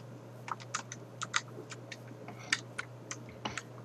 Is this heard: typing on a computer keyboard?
yes